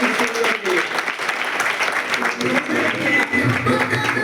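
An audience claps loudly at a Hindi-language event, steady dense applause mixed with music and voices throughout.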